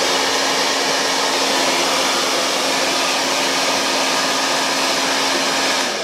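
A hair dryer blows steadily and loudly at close range while drying a Schnoodle dog, one unbroken whirring roar with a faint tonal hum that eases off just at the end.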